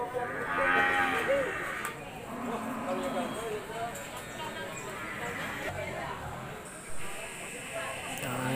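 Cattle low and moo at a South Kalimantan livestock market, several calls rising over a busy background of crowd murmur and movement, moderately near, with people talking throughout.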